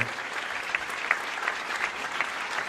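Steady applause from a large crowd at a Tour de France stage podium, a dense continuous wash of clapping with a few sharper claps standing out.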